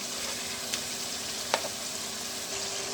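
Chicken pieces being browned for a white karahi, a soft, even sizzle holding steady at a moderate distance, with two faint clicks of a utensil against the pan and no voices.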